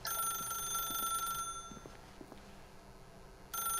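An old-style telephone bell rings in the video game The Stanley Parable, a steady bright electronic ring that stops, leaving a quiet room tone before ringing again near the end.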